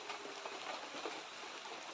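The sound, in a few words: rain falling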